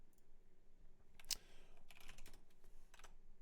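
Computer keyboard keys are pressed for select-all and copy shortcuts, giving a few faint, scattered clicks in a quiet room.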